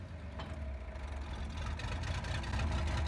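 An Oliver tractor engine in Farming Simulator 22 idles after starting, a low, steady mechanical rumble that grows slightly louder toward the end, with no talk over it.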